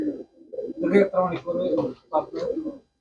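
Pigeons coo in soft, rolling bursts close by in a pigeon loft, with a voice speaking over them through most of the stretch.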